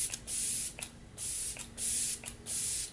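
Kat Von D setting spray misted onto a face in about four quick bursts, each a close, bright airy hiss separated by short pauses, with no talking.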